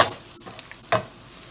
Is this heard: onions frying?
yes